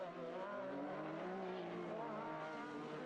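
Race cars lapping a shell-car oval in a King of the Shell series event, a steady droning engine roar with shifting tones held loud and continuous throughout, no pauses between passes.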